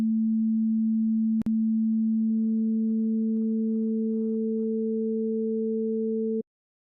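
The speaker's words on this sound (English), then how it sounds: "Let's take a sine wave and add it to a sine wave that's twice its frequency," Pure sine tone joined by a second sine at twice its frequency, a Fourier synthesis of a wave and its second harmonic: a steady low hum, a brief click, then the added higher tone layered on until both cut off together.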